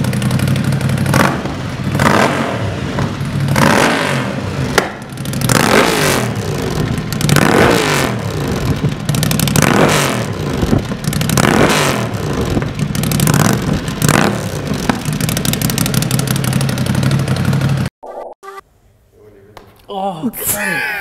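A Ducati 803 special motorcycle engine, already warmed up, revs hard and repeatedly at close range in loud bursts of throttle for most of the stretch, then cuts off abruptly near the end, leaving quiet background.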